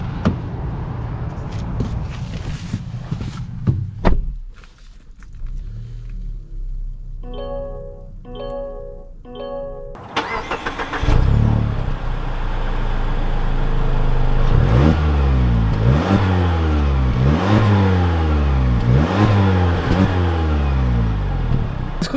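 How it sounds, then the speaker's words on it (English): A 2021 Mazda 3 Turbo car starts with a brief crank and catch, settles into an idle, then accelerates through several rising gear pulls, its engine loud and close throughout with no talk. "let's take this Mazda 3 Turbo out and see how it drives."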